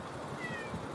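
A stocky, well-fed cat lets out a single short meow, faint and close by, against a quiet room background.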